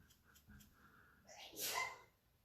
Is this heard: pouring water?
no